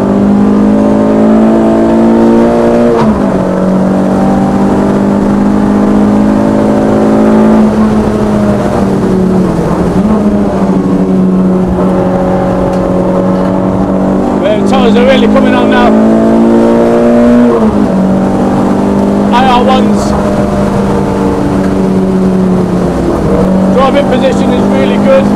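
Renault Sport Clio 172 engine, tuned to about 198 bhp, revving hard on a race track from inside the car, rising and dropping with gear changes over about 25 seconds, with someone talking over it.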